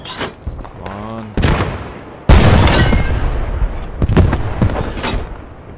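A PaK 38 anti-tank gun fires in the World War II shooter game Post Scriptum, two heavy booming shots with rumbling decay, closely spaced amid loud battle noise and a voice speaking in between.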